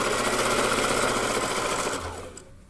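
Sewing machine running a zigzag line along a curved skirt hem, giving a fast even mechanical whir that holds steady for about two seconds, then winds down and stops.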